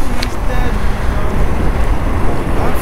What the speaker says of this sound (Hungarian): Szélzaj, környezetzaj, villamos, autó.